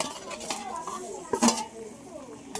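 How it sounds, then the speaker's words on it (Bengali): Fried gangmouti fish and fried eggplant go into a cooking pan for a fish curry, bringing a few metallic clinks and scrapes of utensils against the pan while a person talks. "এবার ভেজে রাখা মাছটা দিয়ে দেবো এবার ভেজে রাখা বেগুনটাও দিয়ে দেবো"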